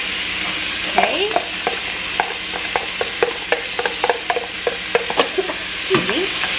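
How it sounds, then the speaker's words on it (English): Onions sizzle steadily in a hot pan, with repeated scraping and clicking of a utensil stirring them, close by and fairly loud. "You can hear that sizzle."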